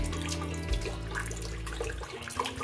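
Water poured into a rice cooker being set up to steam momos, a steady faint splashing flow that shifts slightly in pitch partway through, with no one speaking.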